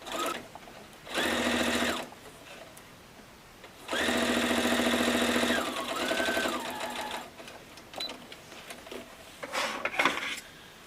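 A sewing machine stitches pieces of a striped Christmas table runner in two loud steady runs, the longer one slowing near the end, with quieter handling noises in the pauses and no voices.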